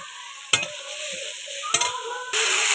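Onions hit hot oil in a pan on a clay stove, bursting into a loud sizzle with sharp stirring clatters, then a steady close frying hiss.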